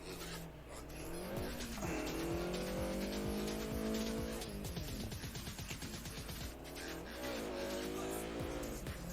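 Video game Audi rally car of 600 horsepower racing on wet stages in Dirt Rally 2.0, engine screaming through repeated upshifts and downshifts with tyre squeal, steady and close throughout.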